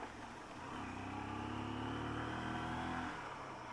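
A motorcycle rides along a road on the way back to Kakani, its engine droning steadily and rising slightly in pitch, up close and fairly loud with no talking.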